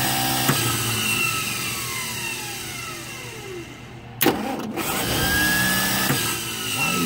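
The starter motor of an M715 truck wired with a mixed 12V and 24V system cranks with a loud, steady mechanical whine and shifting gliding tones, broken by a sharp burst and brief clatter partway through.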